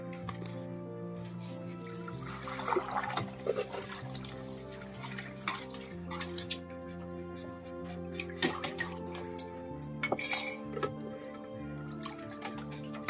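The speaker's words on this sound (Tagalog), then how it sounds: "Magugas na muna ako ng mga plato." Dishes and plates being washed at a sink, running water with scattered clinks and clatters of crockery, a sharp bright splash near the ten-second mark, close and irregular.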